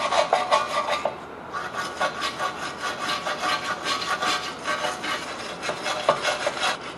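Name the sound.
wire brush scrubbing corrosion off a hub mating surface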